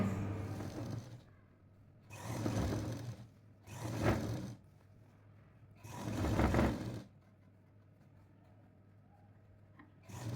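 A sewing machine stitches a nightie seam in four separate runs of rapid mechanical whirring, each lasting about a second, with quiet pauses between them. The sound is close and no one speaks.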